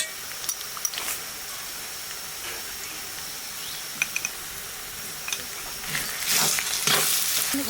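Ground spices with green and dried chilli, coriander, cumin and salt sizzle in a pan for a Bengali fish curry, a soft steady hiss broken by scattered spoon clicks and a louder burst of frying near the end.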